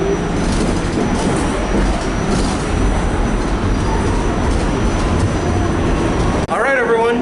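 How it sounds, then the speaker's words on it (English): A New York City subway C train roars loudly and steadily along the track with a rumbling rattle, and voices talk faintly under the noise near the end. "Yeah, this is definitely the C train."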